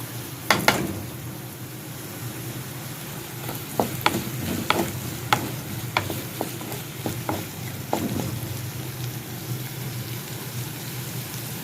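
Green chilies frying in a pan, a steady sizzle broken by a series of sharp scraping stirs and spatter clicks, close and moderately loud with no talk.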